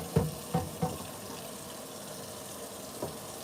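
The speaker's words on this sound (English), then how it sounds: "I'm going to water them." Steady wash of water running from a tap, filled to water potted ferns on a front porch, with a few soft knocks and bumps over the continuous flow.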